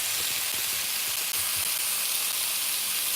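Leftover Christmas dinner reheating in a skillet, a steady bright sizzle and hiss with soft scraping thumps as it is stirred, close and continuous with no talk.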